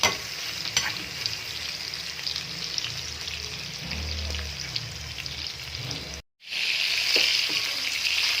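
Longganisa sausage sizzling steadily in a pan, a continuous close crackle and hiss with occasional pops and stirring scrapes, broken by a brief near-silent gap before the frying resumes.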